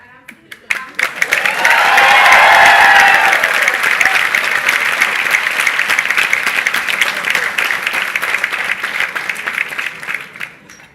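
An audience at an HR conclave in Hyderabad breaks into loud applause and cheering, which swells quickly, holds as a dense roar of clapping and then thins out toward the end, with some voices mixed in.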